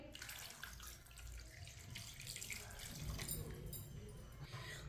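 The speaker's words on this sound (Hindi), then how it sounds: "साथ में पानी डाल लेंगे।" Water pours steadily into a cooking pot holding chicken pieces, a continuous splashing gush lasting several seconds, close and alone with no talk.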